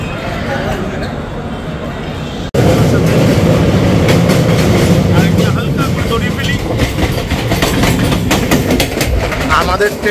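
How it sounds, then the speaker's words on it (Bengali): An LHB express train, the Sabroom–Sealdah Kanchanjungha Express, runs along the rails near Bidhannagar Road; a loud, continuous rumble with rhythmic wheel clatter after an abrupt jump in level. "আমাদের ট্রেন এখন বিধাননগর রোড ক্রস করছে"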